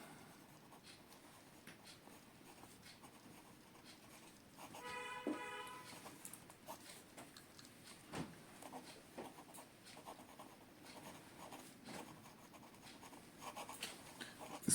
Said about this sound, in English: Now some reverse writing.